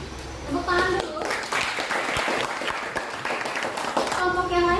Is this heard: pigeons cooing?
no